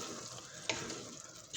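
Egg masala fries gently in a pan, a soft sizzle with a brief scrape of stirring, quiet and close with no voices.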